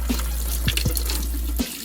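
Hot water pours steadily from a camper sink faucet, a close, full rush of flow with a couple of brief splashy bumps before it cuts off abruptly near the end.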